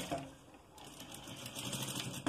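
Sewing machine stitching school trousers, a steady mechanical whirring and clatter running almost continuously at moderate level, with no voices.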